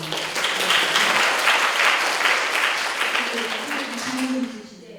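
A lecture audience at a university talk applauds in a full, steady round of clapping that fades out at the end.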